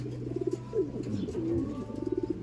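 Racing pigeons coo repeatedly in soft rolling phrases, close by, with a low steady hum underneath and some faint rustling.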